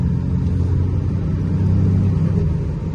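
A stock Cummins diesel in a Sweptline truck, fitted with a Smarty tuner, revs up with more RPM, a steady loud low rumble holding close and continuous with no talk.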